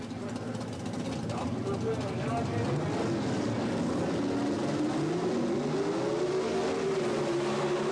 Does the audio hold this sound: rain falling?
no